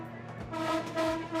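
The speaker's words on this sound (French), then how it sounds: "j'entends dans le wagon que vous n'arrêtez pas de klaxonner" Horn of a Philippine train blowing from inside the railcar, two or three loud, sustained toots in quick succession over the rumble of the moving train.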